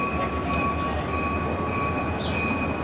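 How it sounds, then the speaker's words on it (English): Western Maryland GP30 diesel locomotive number 502 arriving on the Western Maryland Scenic Railroad, a steady rumble of rolling train with high tonal squeals from wheels or brakes, fairly close and without talk. "here we have Western Maryland GP30 number 502"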